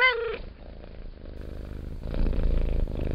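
A brief vocal tone at the start gives way to a low, rumbling purr imitated by a human voice, steady and close for a few seconds.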